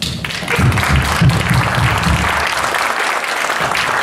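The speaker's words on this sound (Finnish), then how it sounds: "No sehän oli huikea taputus" Audience applause, dense and sustained clapping from a crowd that fills the whole span before gradually thinning slightly toward the end.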